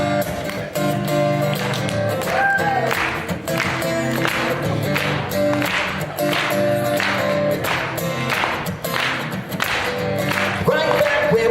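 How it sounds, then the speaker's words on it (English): An audience claps along in steady rhythm to live music at the One More Shot 2015 closing ceremony, the sharp beats loud and even under the band. "let's do some clapping along"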